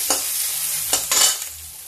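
Onion frying in a pan, a constant bright sizzle broken by a few short scraping bursts as it is stirred, close and loud with no voices.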